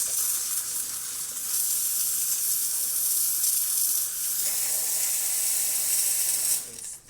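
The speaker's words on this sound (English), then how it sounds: "I like before that to do the test the steamer really quick." Steam wand of a Rocket R58 espresso machine hissing steadily and loudly for about six and a half seconds during a test after a full tune-up, then cutting off abruptly near the end.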